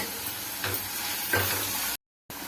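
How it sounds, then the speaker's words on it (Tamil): Ginger garlic paste sautéing in a pan for veg pulao gives a steady, close sizzle with a couple of soft stirring scrapes, then a brief silent gap before the sizzle resumes. "இஞ்சி பூண்டு பேஸ்ட்டு போட்டு இதை நல்லா பச்சை வாசம் போகிற அளவுக்கு வதக்கிக்கிடுவோம்."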